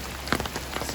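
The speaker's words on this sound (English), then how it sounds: "So we're at about probably 3 inches of rain right now for the day." Heavy rain pours steadily on surfaces around a garden planted with fall seeds, a dense continuous patter with a few closer drops, loud and even throughout.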